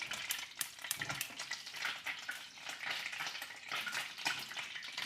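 Butter sizzles over low heat in a pan for an apple crumble, a steady crackling hiss with frequent small pops, faint and unbroken, with no voices.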